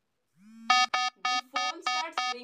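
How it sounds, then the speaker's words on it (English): A phone rings when a Dizo Watch R's Find My Phone feature triggers it: a rising tone, then six short bright electronic chime bursts in a regular pattern, clear and alone. "the phone starts ringing, but you literally cannot stop it."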